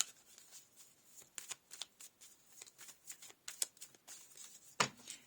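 A tarot card deck being shuffled by hand: quiet, close riffling and rapid papery flicks in uneven bursts, ending with a sharper slap of the cards.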